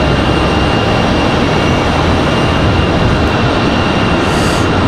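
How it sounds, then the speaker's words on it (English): A Delta Airbus A220-300 from Boston touches down at Raleigh-Durham International, a loud, steady, broadband roar of engine and rolling noise with a faint high whine, close and unbroken. "Delta A220-300 from Boston. That's Delta 2283. 1 hour and 21 minutes of flight time by the time this one touches down here in just a moment."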